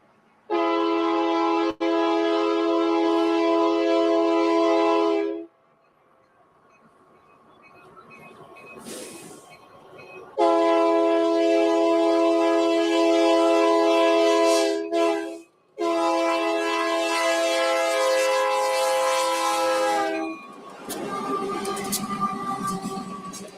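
An eastbound coal train on Union Pacific's triple-track mainline sounds several long, loud horn blasts, with the rumble of passing cars and rails filling the gaps between them. No one speaks.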